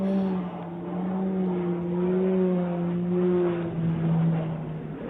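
Airplane engine droning through a spiral dive, playing back from a recording: a sustained tonal hum that rises and falls in pitch as the plane turns, steady and fairly loud with no talking.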